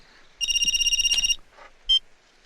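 A telephone rings with a bright electronic ringtone in a close, loud burst of about a second, followed after a pause by one short electronic beep in an otherwise quiet room.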